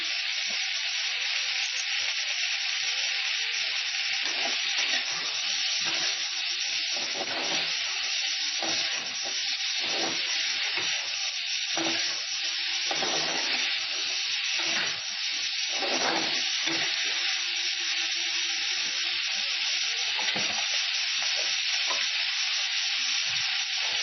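Meat sizzles and hisses steadily in a hot pan after red chili powder and hot water are added, a constant bright frying noise with occasional crackles and bubbling, no talking.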